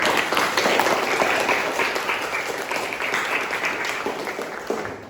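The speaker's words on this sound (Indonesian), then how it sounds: "Kasih tepuk tangan buat kelompok 1 anak-anak." Students and classmates applaud a school student group, a dense steady round of clapping lasting the whole stretch and easing slightly toward the end, with no talk over it.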